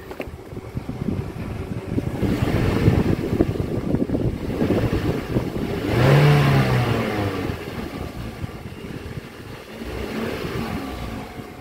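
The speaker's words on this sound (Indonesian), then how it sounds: "gue bakal ngegas mobilnya untuk dengerin suara mesinnya ya" A Toyota Corolla Altis 1.8 J with manual transmission is revved while parked, its engine rising from a steady idle into a swelling rev near the middle before settling back, heard close up with some wind buffeting the microphone.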